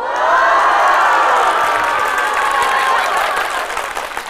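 A live audience at a Chinese pingshu storytelling show erupts in loud cheering, whooping and applause, a sustained roar of voices and clapping that holds steady before tapering slightly near the end.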